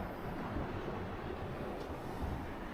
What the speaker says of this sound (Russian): Только вместо шума колес звук волны воды.